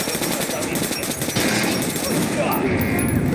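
Rapid automatic weapon fire in Metro: Last Light, loud bursts running throughout under a spoken voice.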